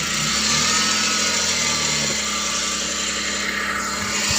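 A Suzuki DA64V van's K6A engine idles steadily with a faulty misfire when hot, a continuous close hum and whirr holding an even level throughout.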